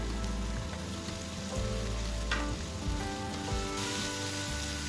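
Chopped tomato hits hot oil in a frying pan while spring onion is already cooking for tortang talong, giving a steady, dense close-up sizzle with crackling spatters throughout.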